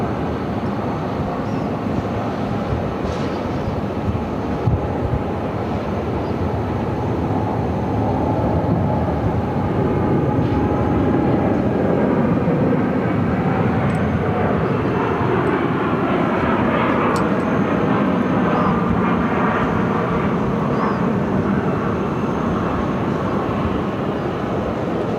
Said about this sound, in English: we do have the Hawaiian-bound American 787-8 Dreamliner now rolling down 7 left